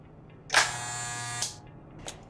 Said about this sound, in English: I hate this sound. The sound of the can.